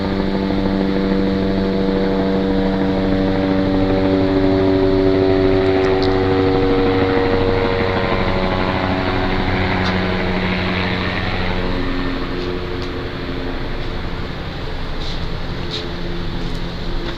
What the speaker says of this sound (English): You hear that the helicopter coming over and over?